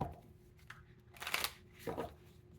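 Tarot cards being shuffled in two short bursts of riffling and sliding, close and fairly quiet, with faint handling noise in between.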